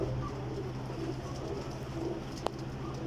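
Pigeons coo softly and steadily from a loft of flying pigeons in Jhelum, with a brief sharp click near the end.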